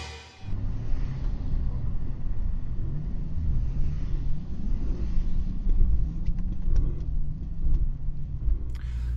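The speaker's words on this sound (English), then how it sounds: "it's the first time that I'm driving this car in the snow" A Mercedes S65 AMG on summer tires drives through snow in Pittsburgh, heard from inside as a steady low engine and road rumble with a slight droning hum that holds nearly constant throughout.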